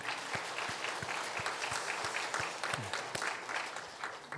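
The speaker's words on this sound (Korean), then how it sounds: "우리 한번 박수로 한번 격려하겠습니다" Sustained applause from a church congregation during a Sunday worship service, steady dense clapping with sharp individual claps standing out, filling the whole stretch without talk.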